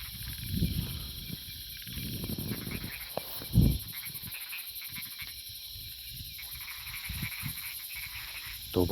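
Frogs croak steadily through a rainy night in the Thai countryside, a dense layered chorus with a few louder nearby calls over a constant high insect-like hiss, without voices.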